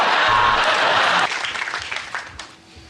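A studio audience at a comedy panel show applauds loudly for about a second, then the clapping quickly thins out and fades away to near silence.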